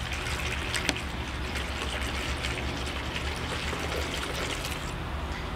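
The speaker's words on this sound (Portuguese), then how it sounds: "Então a gente vai adicionar a água." Water poured steadily into a semi-hydroponic pot holding a Phalaenopsis orchid, a close, continuous splashing trickle with no pauses.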